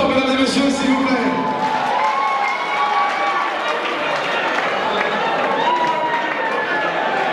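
A concert crowd in Charleroi claps and cheers loudly, with voices whooping over continuous, close applause.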